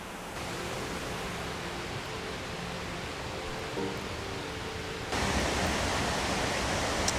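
Pistyll Rhaeadr waterfall, a steady broadband roar of falling water heard close by with no pauses, growing noticeably louder and brighter partway through.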